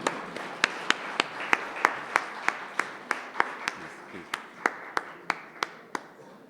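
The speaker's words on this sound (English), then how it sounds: "A big round of applause, please," Scattered claps from a literature festival audience welcoming guests to the stage, a regular series of sharp individual hand claps over a low murmur, moderately faint and steady throughout.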